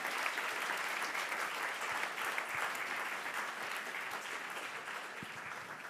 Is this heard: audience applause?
yes